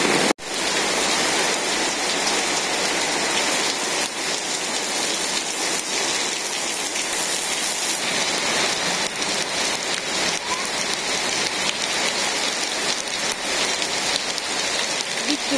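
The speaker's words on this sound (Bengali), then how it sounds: "বৃষ্টি ভালোই নামছে একদম" Heavy rain falls steadily on a village, a dense, even hiss of drops hitting surfaces that continues unbroken and loud throughout, with no voices.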